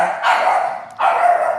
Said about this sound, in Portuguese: Aí eles querem latir aqui no meu ouvido.